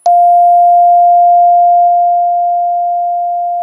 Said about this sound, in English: So here is the constant tone.